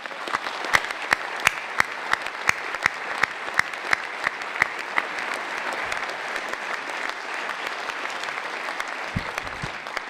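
An audience at a mayor's New Year's greetings ceremony in Saint-Étienne applauds steadily for about ten seconds. Dense clapping fills the room, and a few louder rhythmic claps stand out in the first half.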